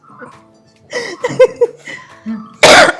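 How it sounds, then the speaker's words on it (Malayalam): One sharp, loud cough bursts out near the end, close by, after softer voices and murmured talk in a Kerala home kitchen. "നീ ചുമക്കോ? ചുമച്ചോളി, ചുമ ഉണ്ടെങ്കിൽ കേട്ടോ."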